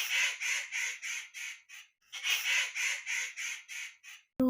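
Cartoon crow cawing in two quick bursts of repeated harsh caws, loud and close with a short pause between them and no talk.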